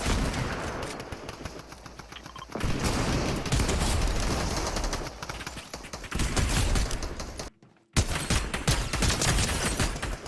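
Twin Mag AR assault rifle fired in Fortnite, loud continuous bursts of rapid gunfire at close range with a brief silent gap near the end before shooting resumes.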